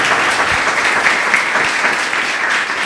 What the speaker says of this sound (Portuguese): Louve ao Senhor com suas palmas bem fortes